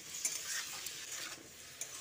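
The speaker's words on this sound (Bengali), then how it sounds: "সবজিগুলোকে ভালো করে ভেজে নিচ্ছি।" Mixed vegetables sizzle quietly in hot oil with salt in a home kitchen, a soft crackling hiss broken by a few light stirring scrapes and taps.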